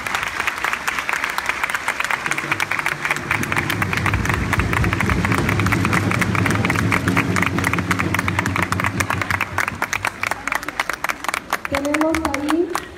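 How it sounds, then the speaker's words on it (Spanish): A school anniversary audience gives sustained, dense applause for teacher Fátima Pech Figueroa, steady and loud for most of the span before thinning out, with a voice coming in near the end. "Reconozcamos su labor con un fuerte aplauso a la maestra Fátima"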